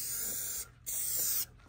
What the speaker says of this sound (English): I'm gonna take this brown paint and I'm just gonna kind of spray it where I want